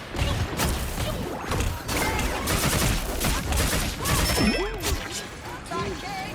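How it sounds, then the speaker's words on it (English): Rapid bursts of video game gunfire crackle and thump in dense, uneven volleys that run almost nonstop, loud and close, with a few sweeping electronic tones near the end. "I'm just shooting at nothing."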